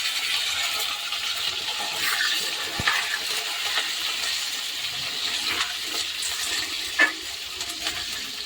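Soft sizzling and crackling of potatoes frying in a pan with whole cumin, steady throughout, with occasional light clinks and a sharper tap near the end.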